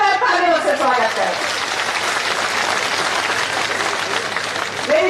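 Loud applause from a crowd at a political rally, a dense sustained roar of clapping that fades slightly while voices carry over it.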